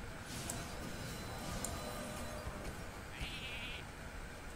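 Sheep bleat from a Hearthstone polymorph spell in the Karazhan prologue, a short bleating cry under steady game music and effects, with a brief bright tone near the end.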